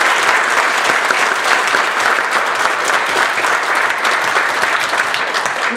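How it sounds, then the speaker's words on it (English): An audience claps steadily throughout, a dense, even wash of applause with no talking, at a Toastmasters table topics contest. "Give yourselves a round of applause."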